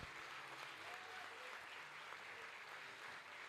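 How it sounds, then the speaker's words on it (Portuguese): Church congregation applauding together, a steady, even wash of clapping from many hands that fills the room at low level, with a faint voice underneath. "Aplaudamos ao Senhor."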